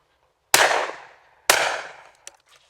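Two loud, close shotgun blasts about a second apart, each with a sharp crack and a long decaying tail, followed by a small metallic click near the end.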